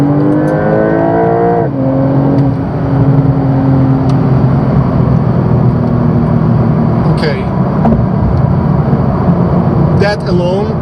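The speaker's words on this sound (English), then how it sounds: "We're in 6th gear. I do the kick" A Porsche 911 Turbo (992 Turbo) with a PDK dual-clutch gearbox responds to a kickdown from sixth gear in city traffic. The engine drops gears with a sharp pitch change, then pulls hard with a loud, rising roar inside the cabin.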